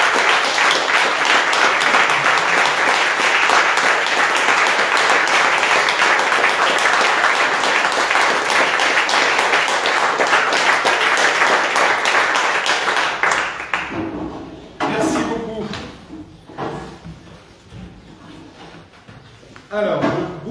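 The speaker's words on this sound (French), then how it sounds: "que nous fassions un tonnerre d'applaudissements pour ces serviteurs du secours et d'assistance" Applause breaks out at a municipal council meeting in honor of rescue and assistance workers, a loud, dense roar of clapping for about thirteen seconds before thinning into scattered claps, shuffling and a brief voice.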